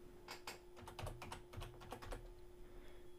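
Typing on a computer keyboard to enter a search term, a quick burst of roughly a dozen close key clicks in an irregular rhythm, with a steady electrical hum underneath and no voices.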